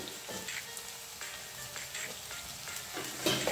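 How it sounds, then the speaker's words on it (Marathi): Fresh peas and a chopped potato fry in a pan over medium heat, giving a quiet, steady sizzle with faint crackles and the occasional stir. "हे सगळं व्यवस्थित आपल्याला मध्यम आचेवर फ्राय करून घ्यायचं आहे।"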